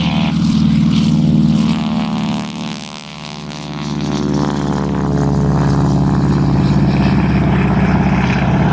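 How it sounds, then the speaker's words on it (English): A Vultee BT-13 converted to replicate a Japanese Val dive bomber drones past at an air show, its radial propeller engine loud and steady, dipping briefly then building again as it passes. "This is a replica of the Japanese Valve, one of 9 Vultee BT-13s that were converted and flown."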